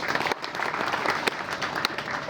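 An audience at a safety session claps loudly for two brothers, a brisk, close round of applause with some individual claps standing out, continuing without pause and with no speech.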